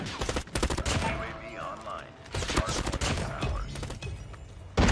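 M16 Peacock's Cry gunfire in a first-person shooter video game: rapid bursts of close, sharp automatic shots in several volleys separated by short pauses, with game effects and faint voices underneath.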